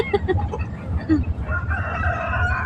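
A chicken clucks several times close by, followed by a short crowing call.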